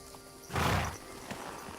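A horse whinnies briefly in the video game Kingdom Come: Deliverance II, followed by a soft hoof clop, set against a faint background hum.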